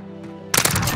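In a video game, sniper gunfire breaks out as a sudden loud burst of close shots, a rapid rattle that cuts in abruptly over a steady low hum.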